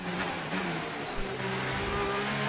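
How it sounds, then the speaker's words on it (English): An F1 race car engine from the F1 25 racing game holds a high, steady whine near and loud, with slight pitch shifts as it runs through the whole stretch. "Yeah, the car definitely sounds 2025 right now."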